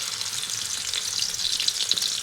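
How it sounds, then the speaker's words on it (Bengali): A paste of garlic, green chili and salt hits hot oil for garlic noodles, giving a bright, dense, continuous crackling sizzle that swells slightly toward the end, up close and without talk. "দিয়ে কিছুক্ষণ ভেজে নিচ্ছি।"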